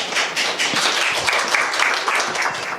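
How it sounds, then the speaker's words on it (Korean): An audience in a Korean church clapping as a woman comes forward to give her testimony, dense scattered claps throughout, moderately loud with slight faint murmurs. "나오실 때 힘찬 박수 부탁드립니다."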